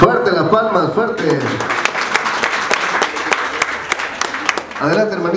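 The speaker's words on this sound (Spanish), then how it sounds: "Fuerte las palmas, fuerte." Rhythmic group clapping at a business event, sharp and fairly close, with singing or speaking voices over it at the start and end.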